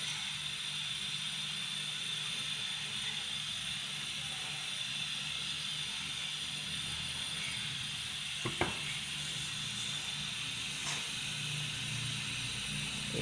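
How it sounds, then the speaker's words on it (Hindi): A radish paratha with ghee cooks on a hot tawa, giving a soft, continuous hiss of frying with a couple of faint knocks, and no speech. "मूलियों वाला पराठा तवे में मैंने डाल दिया। उस साइड से पक रहा है और इस साइड से मैं इस पर घी लगा दूँगी।"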